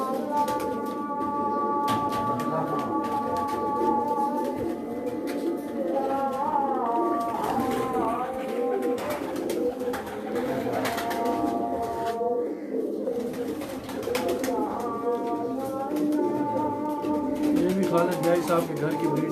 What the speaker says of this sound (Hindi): माशाल्लाह काफ़ी तादाद में इन्होंने कबूतर बनाए हुए हैं